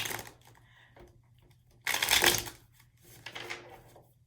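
Tarot cards riffle and slap together in a quiet indoor tarot reading, with soft scattered shuffling that ends in one louder burst of riffling and then a shorter rustle.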